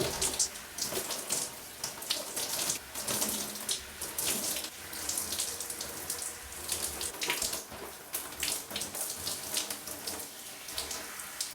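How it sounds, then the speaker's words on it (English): Tap water runs steadily and splashes unevenly as it wets hair at a sink, a close and continuous gushing with no voices. "let's go ahead and wet my hair."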